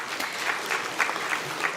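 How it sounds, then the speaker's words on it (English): Brief, dense round of applause from a conference audience at a national conclave on SHG-led natural farming, steady clapping filling the hall. "A round of applause, please."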